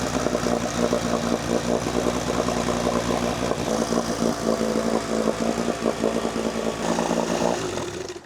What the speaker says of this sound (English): she's running and idling perfectly, pumping great water